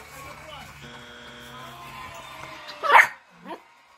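A dog barks indoors, one loud close bark followed by a quieter yip, after a stretch of soft background sound.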